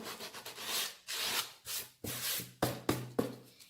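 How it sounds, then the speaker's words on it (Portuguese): Sandpaper rubs back and forth along the wooden edges of a nautical picture frame in bursts of brisk strokes, close and fairly loud, with no talking. "Então agora eu só vou lixar assim"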